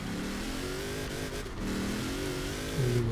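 In Forza Horizon 4, a Rally Fighter car's engine revs steadily as it accelerates hard, a continuous droning roar with rising pitch and a gear change near the end, with no talk over it.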